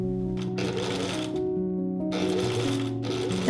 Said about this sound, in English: now I can use the foot of the sewing machine again to sew at the perfect distance from the initial seam.